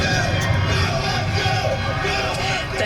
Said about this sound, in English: Thousands of people filled the streets outside the Bell Centre in Montreal last night, cheering on their team, the Montreal Canadiens